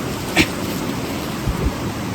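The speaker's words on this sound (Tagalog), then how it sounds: "Sayang naabutan ng ulan." Steady rain patters across a forest during a mushroom foraging outing, a soft, even wash of broadband noise with a couple of faint nearby taps.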